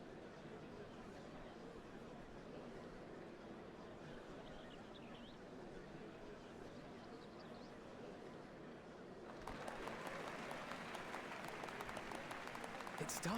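Crowd applause in Final Fantasy XIV at the changing of the Dawn Servants, a steady murmuring crowd that swells into louder, denser clapping near the end.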